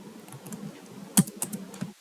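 Keystrokes on a computer keyboard while PHP code is typed, a quick run of light, irregular clicks close by with one sharper tap near the middle, no voices.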